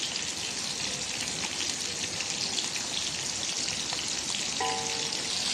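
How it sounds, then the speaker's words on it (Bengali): Onion paste frying in a wok for a fish curry, giving a loud, continuous bubbling sizzle that stays even from start to finish with no voices. "তো এই কড়াইতে মাছ রান্না করব। পেঁয়াজ বাটা দিয়ে দিলাম"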